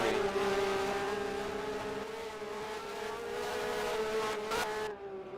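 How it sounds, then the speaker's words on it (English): Porsche race cars at the 2023 SLC GTI Lakeside Castle race scream through a sector with a sustained, high-pitched engine wail that holds steady and then shifts near the end, loud and continuous with no talk. "As those Porsches scream into sector 3."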